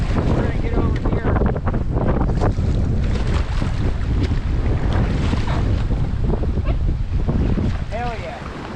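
Strong wind buffets the microphone in a steady loud roar while a raft is paddled across a lake on a windy day, with water splashing faintly beneath the gusts.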